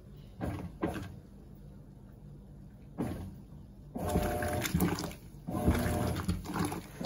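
Mueller Popmatic 8kg washing machine fitted with a Colormaq agitator, running an empty agitation cycle with reuse water at a medium level, giving bursts of churning and sloshing that alternate with quieter pauses and a low motor hum.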